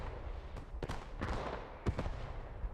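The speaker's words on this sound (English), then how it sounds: "Artillery coming down." Artillery shells burst in a WWII tank battle game, a handful of sharp booms scattered over a few seconds against a steady rumble of battle noise, moderately loud.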